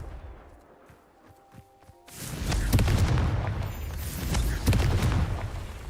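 Blasting spell impacts in the video game Hogwarts Legacy, a sudden loud boom followed by rumbling explosive bursts and crackling debris, after a quieter stretch with scattered faint hits.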